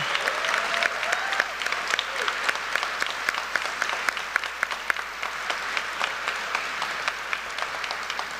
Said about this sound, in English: Let's give a round of applause to the Tampa Police Department and Tampa Fire Rescue.